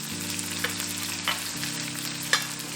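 Diced onions sizzle in hot oil for a Tamil-style potato fry, a constant soft hiss with a few brief crackles and stirring clicks, and a low steady hum running underneath.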